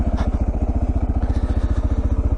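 A motorcycle engine runs steadily before a sand ride in Murray Sunset National Park, its close, even thumping pulse rapid and regular, with no talk over it.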